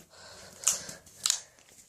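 Clear-glue slime with metallic sequins being squeezed and played with, giving two sharp, crisp clicks about half a second apart over a quiet background.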